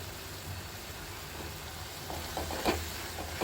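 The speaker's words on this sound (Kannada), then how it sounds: "ಈಗ ಇದು ಬೇಯೋವರೆಗೂ ಒಂದು ಸ್ವಲ್ಪ ಫ್ರೈ ಮಾಡಬೇಕು ಎಣ್ಣೆಲಿ" Coconut paste and onion frying in oil for a menthya bath, a steady low sizzle that runs under the whole stretch, with a few sharper stirring scrapes near the end.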